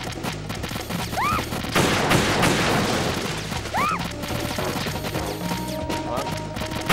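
Gunfire in the Metal Gear Solid video game sounds as a dense burst of rapid shots with crashing impacts, loud and close, alongside whistling game effects and no talk.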